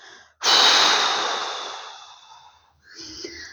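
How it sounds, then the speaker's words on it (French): A slow, forceful exhale during a sophrology relaxation exercise: a loud, close breath out that fades gradually over about two seconds, then quieter breathing. "Souffle pour chasser toutes tes émotions négatives."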